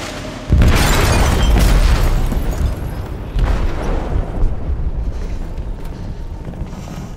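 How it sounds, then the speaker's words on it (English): An explosive goes off in a ship's hold in Detroit: Become Human: a sudden loud, deep boom, then rumbling debris. A second heavy blast follows a few seconds later and fades into a low roar, with no talking. "They detonated an explosive in the hold."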